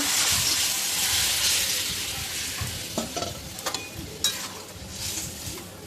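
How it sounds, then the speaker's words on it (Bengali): Rohu fish curry poured into a hot kadai, a loud rushing sizzle that gradually eases into steady bubbling with a few clinks of a spoon. "এবার আমি মাছের ঝোলটা দিয়ে দেবো ঝোল কড়াইয়ের মধ্যে"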